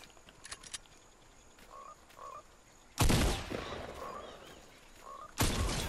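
Frogs croaking in the video game Fortnite, several short throaty croaks in quick pairs, then loud bursts of gunfire breaking in, no talking.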